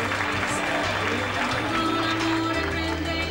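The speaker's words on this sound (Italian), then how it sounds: "Un applauso ancora al numero 15" Audience at a 1999 Italian beauty pageant applauds contestant number 15, a steady wash of clapping with musical tones and background sound running beneath.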